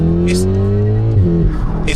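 A Volkswagen Golf R with a Milltek exhaust revs its engine loudly up close, a steady roar that climbs and then dips in pitch over two seconds.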